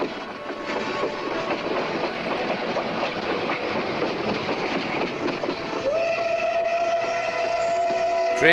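A train rumbles and clatters steadily along the tracks, then a loud sustained horn sounds over the running noise near the end.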